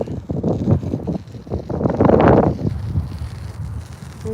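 Strong gusts buffet the microphone outdoors on a drive home through the countryside, rising and falling in rough bursts with a heavier surge in the middle and no talk.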